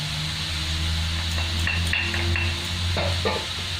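A spoon scrapes and taps against a bowl while spices are stirred into a carrot and capsicum raita, a few close clinks over a steady background hum.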